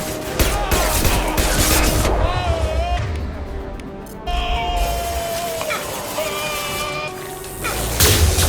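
Dense gunfire and crashing impacts of a firefight in the video game Mass Effect, loud and continuous, with shouted voices and game music running through it.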